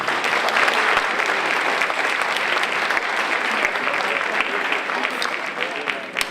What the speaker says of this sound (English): perhaps you could give them a round of applause